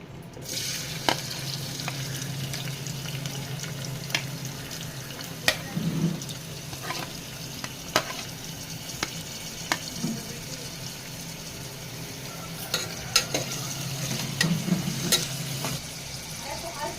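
Onions frying in hot oil in a pressure cooker for a village-style country chicken curry: a low steady sizzle with intermittent clicks and scraping taps of a spoon against the pot, close by, no talking.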